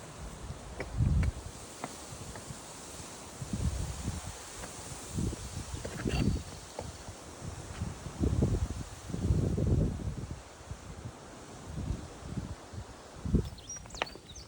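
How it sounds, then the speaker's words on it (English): Wind gusting through leafy trees at a scenic spot along the Appalachian Trail, rising and falling in several soft rushing waves with faint insect and bird sounds in the background. "Ooh, that's nice wind."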